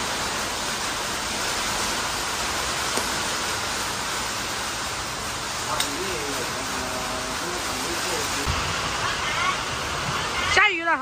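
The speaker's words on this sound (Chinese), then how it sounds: "下雨了，好凉爽。" Rain falls in a steady, even hiss at moderate distance, a soft broadband wash that continues throughout while people talk now and then.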